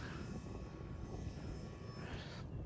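An RC Cessna 400 scale model airplane, about 1.1 m span, flies at low throttle in some wind, its small engine giving a steady, faint, distant drone with wind rumble and no talk.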